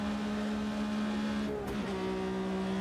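Engine of a Porsche RSR race car in the Automobilista 2 racing game, a steady tonal drone that shifts pitch midway as the car changes gear or speed, with no voices.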